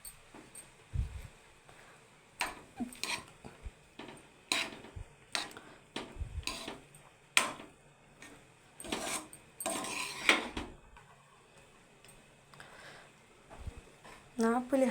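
Tamarind rice (pulihora) being mixed in a pot, with a spoon scraping and clinking against the metal in irregular bursts of close, fairly loud strokes, some faint background sounds between them.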